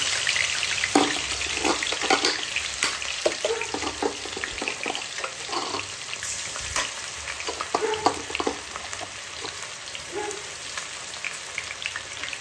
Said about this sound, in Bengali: এখন আমি এই পেঁয়াজ আর কাঁচা লঙ্কা আর এই আদার পেস্টের মধ্যে কড়াইতে দিয়ে দিই